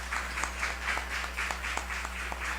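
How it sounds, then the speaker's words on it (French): Applause from a live audience at an official singing-contest audition in Haiti, a sparse, fairly quiet patter of scattered claps over a steady low hum, with no voices on top. "je vous demande de vous applaudir déjà."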